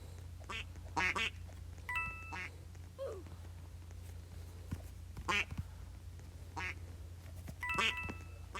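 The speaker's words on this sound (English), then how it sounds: "It's raining ducks." Cartoonish duck quacks repeat in short bursts across the scene of a Don't Press the Button video game where it rains ducks, set over a steady low background hum with brief bleeps and no talking.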